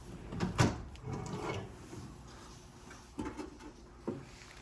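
A toolbox drawer holding screwdrivers slides open and shut, giving a few soft scraping clunks and knocks spaced across a quiet background.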